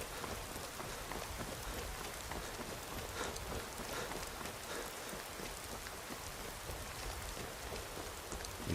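Steady rainfall in the video game Skyrim, a faint, even hiss of light rain that continues without a break and with no talk.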